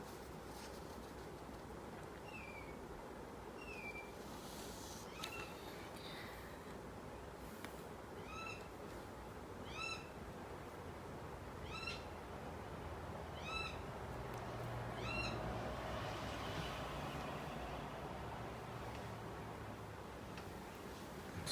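A bird outdoors calls again and again, repeating short chirping notes in bursts every second or so over a steady background hum, fairly distant and moderately loud.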